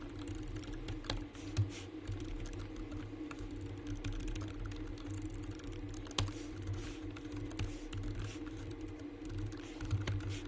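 Steady typing on a computer keyboard, a continuous patter of key clicks over a low hum, with a few sharper taps standing out.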